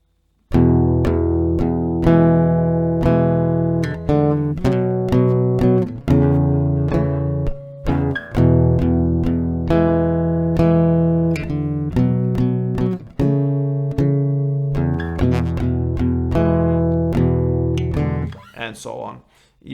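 Acoustic guitar plays the melody of a song slowly, picked notes ringing over a steady open-string loop, close and clear with no voice throughout.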